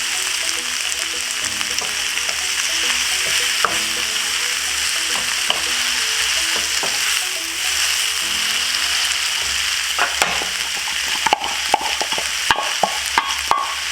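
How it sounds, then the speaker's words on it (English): Tomato, onion, garlic and liver fry in a pan while being stirred, a loud steady sizzle with scraping spoon strokes and a few sharp clicks toward the end, close up. "Give it a stir."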